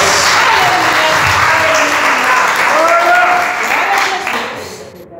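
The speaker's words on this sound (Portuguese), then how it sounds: "pode aplaudir a Deus por essa palavra?" A church congregation applauds loudly up close, dense clapping with voices calling out over it, holding steady before fading away toward the end.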